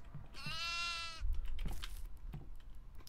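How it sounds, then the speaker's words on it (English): A goat on an altar in the horror video game Devour lets out one long, wavering, nasal bleat, loud and close, followed by low rumbling thuds and scattered game noises. "there's this goat sitting in here on this altar"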